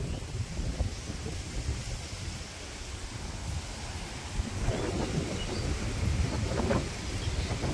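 A rural rainy-season downpour with a thunderstorm brings a dense, steady roar of rain and low rumbling, broad and continuous across the whole stretch without any voices.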